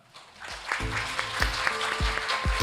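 A forum audience in Jeju gives brief applause, scattered claps rising and continuing over a few seconds, at a moderate level with no clear speech over it.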